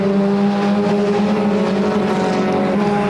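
Pure stock race cars roar around Flamboro Speedway in a short-track race, a loud continuous engine drone with steady tonal harmonics and a slight pitch shift as cars pass.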